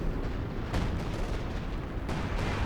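Artillery shells pound the battlefield in a 4v4 Company of Heroes 2 match on the Red Ball Express map, a dense, continuous roar of booms and blasts with sharper bursts standing out.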